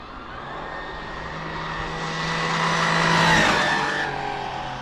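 A small electric RC Mini Challenge car on an SBR 2.0 chassis races around a track, giving a thin whine that rises in pitch and volume as it approaches, then drops off as it passes.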